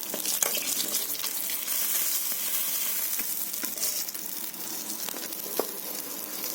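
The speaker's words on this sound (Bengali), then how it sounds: "এইভাবে আমি লাল লাল করে মাছগুলো ভেজে নিয়েছি" Fish sizzling steadily in hot oil in a kadai, a dense continuous frying crackle with scattered sharper pops, close and fairly loud, no voices.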